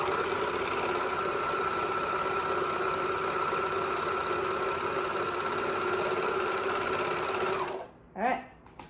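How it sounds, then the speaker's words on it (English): A sewing machine chain-stitching baby bummies hums at high speed in a steady, close whir for several seconds, then cuts off abruptly, followed by a short squeak and handling noise. "this is what they mean by chain sewing"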